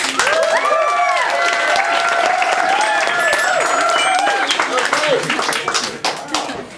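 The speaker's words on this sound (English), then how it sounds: "Let's give another round of applause." Audience applause at a Parkdale Street Writers reading in an art bar, a steady wash of hand clapping with whistles over it, loud throughout and thinning at the end.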